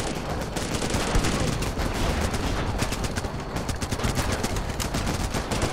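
Rifle fire in the Running With Rifles combat game, a relentless close barrage of rapid overlapping shots with no letup across the whole stretch.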